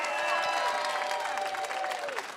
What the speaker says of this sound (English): I want you to please give a warm round of applause for Callum Woodhouse,